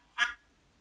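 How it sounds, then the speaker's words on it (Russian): A single short, bright duck quack from a children's animated animal-sounds cartoon rings out once, clear and close, then silence. "Где утка? Превосходно. Утка."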